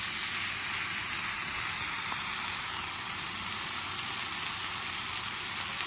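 Rice sizzling and crisping on the bottom of a pan in a van kitchen, a continuous close hiss with faint crackle.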